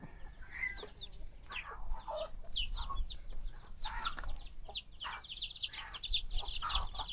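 A flock of 18-day-old country chickens on a farm, continuous overlapping clucks and shrill peeping chirps from several birds, busy and fairly close throughout.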